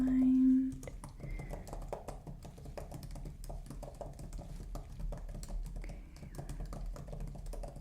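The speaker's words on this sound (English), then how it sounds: "I'm just going to type up the prescription here" A prescription is typed on a computer keyboard during a skin-exam roleplay, with steady close clicking and tapping of keys throughout and a brief tone at the start.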